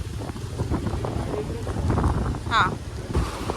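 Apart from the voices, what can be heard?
strong stormy wind by rough sea waves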